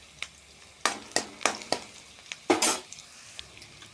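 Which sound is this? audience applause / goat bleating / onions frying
onions frying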